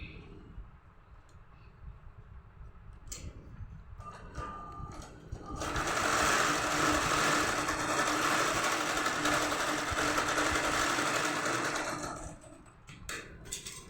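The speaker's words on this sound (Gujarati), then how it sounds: "આપણે સિલાઈ લગાવી દેવાની અહીંયાથી" A sewing machine stitches fabric for a small Ghanshyam Maharaj deity jacket, running as one steady, loud whirring run of about six seconds after some quieter handling noises.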